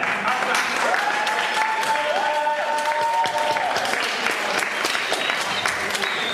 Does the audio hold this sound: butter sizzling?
no